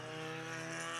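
Hornet class race cars lap the oval at USA Raceway with a steady, droning engine whine, a continuous buzzing tone heard from a moderate distance.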